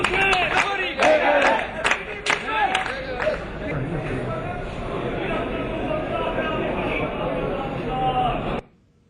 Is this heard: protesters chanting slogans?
yes